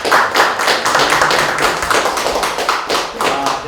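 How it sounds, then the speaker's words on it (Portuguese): An audience at a municipal tree-management event claps steadily for several seconds, a dense, loud patter of many hands with no voices over it. "Uma salva de palmas para ele."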